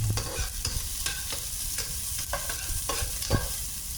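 Garlic, onion and ginger sautéing in a pan, a bright steady sizzle broken by regular scraping strokes of a spatula about every half second, close and clear with no talking.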